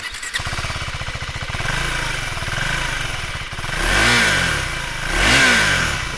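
A Husqvarna Svartpilen 401 motorcycle with an underbelly exhaust idles with a throaty burble, then revs up twice in strong, rising surges that fall back between them, loud and close.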